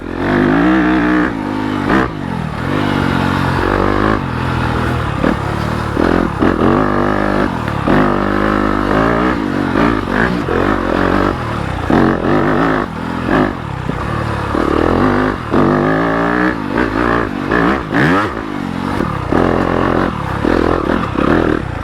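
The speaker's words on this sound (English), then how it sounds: "shift into that first gear, to the granny gear, give it a little bit of gas, and you should be able to make it up" A stock Yamaha YZ250FX dirt bike engine revs loudly and close, surging and dropping repeatedly as it accelerates uphill and shifts up through low gears, with clattering and scraping along the way.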